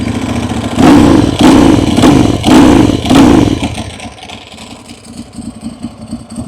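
A 2011 Ducati Monster 1100S with a Termignoni full-system exhaust gives four loud, sharp throttle blips over a rumbling idle. It then settles back to a lumpy, uneven V-twin idle, recorded close up.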